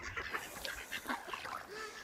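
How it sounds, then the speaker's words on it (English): A duck quacks by a river in a few short, hoarse calls over a soft outdoor background, fairly close. "What are you quacking about?"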